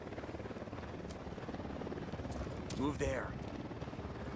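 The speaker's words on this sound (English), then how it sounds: "Chopper's approaching." A helicopter approaching in Ghost Recon Wildlands, a steady rapid rotor chop throbbing under a brief spoken line, swelling slightly toward the end.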